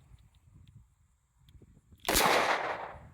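A single sharp 9mm shot from a homemade ALTOR zipgun cracks loudly after quiet rustling and small clicks, then its echo decays for about a second.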